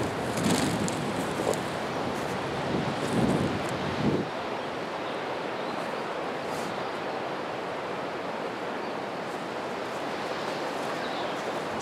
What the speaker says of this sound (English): It really is excessively windy.